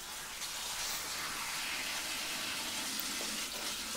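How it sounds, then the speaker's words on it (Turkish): Tap water running while strawberries are washed in a kitchen, a steady faint hiss and splash throughout, close and without talk. "Evet, çilekleri birkaç sefer yıkıyorum."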